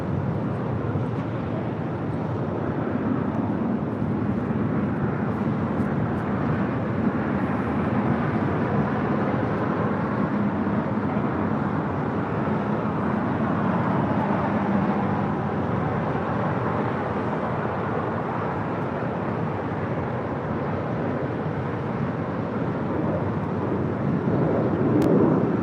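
Spirit Airlines Airbus A321 jet on flight 590 from Houston, Texas, a steady broad engine roar held for the whole stretch, moderately loud and unbroken, with no talk over it.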